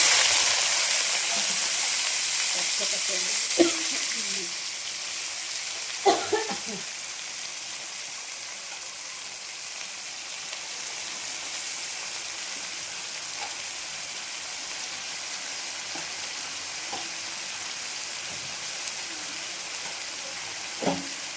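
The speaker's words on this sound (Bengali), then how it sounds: "এবার এতে সব সবজিগুলো মিক্স করা আছে, এবার এগুলো একে একে দিয়ে" Mixed vegetables fry in a pan for pasta, with a loud bright hiss at the start that settles into a steady softer sizzle, broken by a few sharp clinks and stirring knocks, close by.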